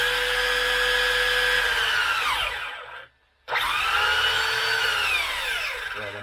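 A small electric motor of a Traxxas Hoss RC truck driving in reverse whines loudly, winds down, stops briefly, then revs up again and slowly falls in pitch.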